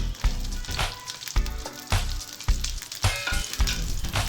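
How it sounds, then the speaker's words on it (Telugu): Green chilies and tomatoes frying in hot oil in a pan, a close, crackling sizzle punctuated by regular stirring scrapes, no talking. "ఆయిల్ వేడైన తర్వాత పచ్చిమిరపకాయలు,"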